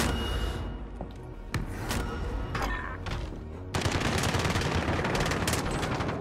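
Gunfire from inside a house in Call of Duty: Modern Warfare, loud rapid bursts and single shots with a thumping low end, growing into dense sustained automatic fire in the second half, with no talking.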